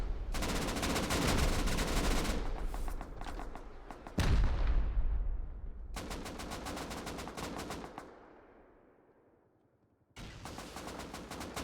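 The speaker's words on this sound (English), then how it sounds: "Heavy, heavy munitions fire." Heavy gunfire and rockets during a base raid in the Rust video game: sustained rapid automatic fire in long bursts, with a big booming impact midway that rumbles out. The fire stops briefly, then starts again.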